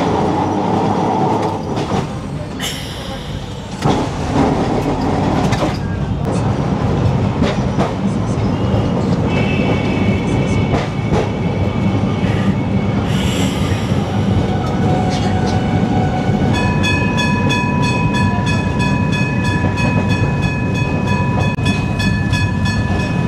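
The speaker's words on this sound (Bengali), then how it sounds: "আমাদের ট্রাম এখন ঢুকে পড়লো লেলিন সরণিতে" A Kolkata tram rolls along Lenin Sarani from Esplanade, loud and continuous, with steady wheel rumble, rattling clatter and a few sharp squeals and bell-like tones, heard from on board.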